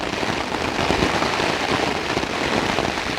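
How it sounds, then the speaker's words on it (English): A storm's heavy downpour keeps up a constant, loud broadband hiss of rain striking surfaces nearby, unbroken throughout and free of speech. "then you can hear the rain and everything"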